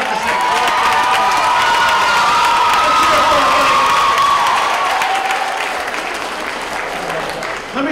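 A crowd applauds and cheers loudly at a middle school fitness center ribbon cutting, with a few whoops. The clapping holds steady, then eases slightly toward the end.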